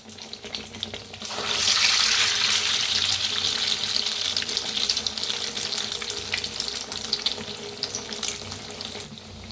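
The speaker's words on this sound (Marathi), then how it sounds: "आणि तेलात सोडूया. दोन दोन करून आपण तळून घेऊया." Dipped boiled eggs go into hot oil two at a time, setting off a loud, bubbling sizzle that swells quickly and stays strong and steady, with no one speaking.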